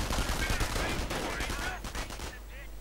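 Dense gunfire, including MP40 submachine guns, in a WWII strategy video game battle; rapid overlapping bursts and shots crackle loudly at first, then thin toward the end, with faint commentary in the background.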